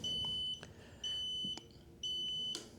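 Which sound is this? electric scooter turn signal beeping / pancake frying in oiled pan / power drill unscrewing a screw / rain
electric scooter turn signal beeping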